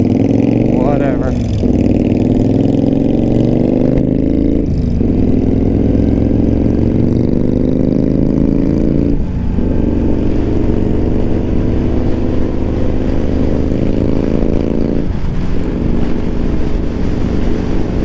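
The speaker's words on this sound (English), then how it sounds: "When you can hear the sound of this bike, it does sound nice when you give her a shot." A Kawasaki motorcycle engine drones loud and close on a ride, repeatedly climbing in pitch through the gears with short drops at each shift, under steady wind noise.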